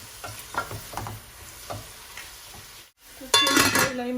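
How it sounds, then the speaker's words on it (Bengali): Salted onions frying in a pan, with a soft sizzle under intermittent stirring clinks and scrapes, then a louder burst of hissing near the end; no voices. "এখন আমি লবণ দিয়া আর ডাইকা রাখিলাম একটু পেঁয়াজটা কুক হওয়ার আগ পর্যন্ত।"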